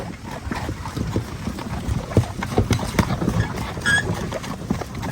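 A ridden mare's hooves clip-clop in a steady, fairly close walking rhythm, with a faint high chirp partway through and no talking.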